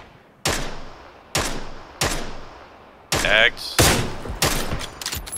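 Sniper rifle shots in PUBG on the Miramar desert map: about seven sharp, loud cracks, each with a long ringing decay, the later ones coming faster and overlapping, with a brief voice in between.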